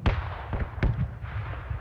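A door is blown apart by an explosion in the PUBG video game: three sharp, booming blasts in quick succession, each trailing a crackling rumble, with no voices.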